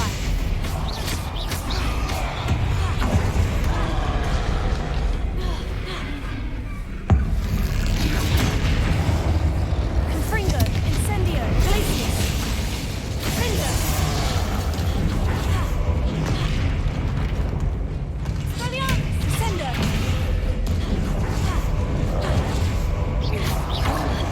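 Combat spells in the video game Hogwarts Legacy, including Incendio and Confringo, unleash a continuous barrage of loud blasts, whooshes and crashing impacts that leave almost no pause throughout.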